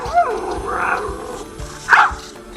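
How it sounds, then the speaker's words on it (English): A Tombot robot puppy plays recorded puppy sounds through its built-in speaker: a few short whimpers and yips, with a louder whine near the end, fairly close and clear. "A built-in speaker allows communication with authentic puppy sounds."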